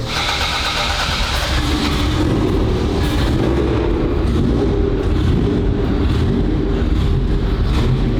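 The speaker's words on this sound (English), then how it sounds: "Let's get a cold start." A 1,000 hp car engine running loud and close during a cold start, a steady dense roar that holds without a break throughout.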